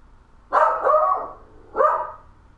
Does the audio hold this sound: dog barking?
yes